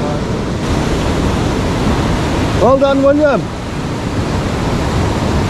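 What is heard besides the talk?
sea waves and white water surf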